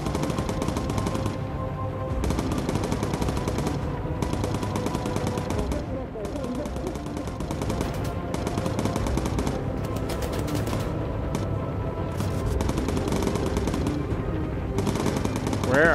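Rapid bursts of machine gun fire rattle through a Bomber Crew video game scene, fairly loud and repeated in clusters, with some talk mixed in.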